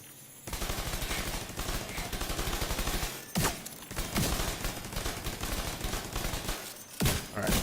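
Rapid automatic turret gunfire in Tom Clancy's The Division 2, loud sustained bursts of rattling shots over several seconds with brief pauses between volleys.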